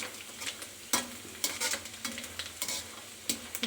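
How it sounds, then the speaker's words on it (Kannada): Cashews and almonds fry in ghee with a soft, steady sizzle, broken by repeated sharp scrapes and clinks of a spoon stirring the pan close up. "ಗೋಡಂಬಿ ಮತ್ತು ಬಾದಾಮಿಯನ್ನು ಅದನ್ನು ತುಪ್ಪದಲ್ಲಿ ಹಾಕಿ ಫಸ್ಟು ಫ್ರೈ ಮಾಡ್ಕೊಂಡು"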